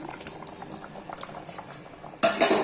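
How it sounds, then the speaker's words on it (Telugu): A pot of mutton curry bubbling on the stove, a soft steady simmer of small pops that swells into a louder, brighter gurgle near the end as the lid comes off. "10 మినిట్స్ తర్వాత మూత తీసి చూస్తే ఇదిగోండి మటన్ ఇలా ఉడుకుతుంది"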